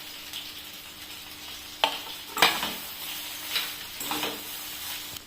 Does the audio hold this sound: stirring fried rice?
yes